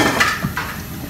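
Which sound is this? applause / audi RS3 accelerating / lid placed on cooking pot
lid placed on cooking pot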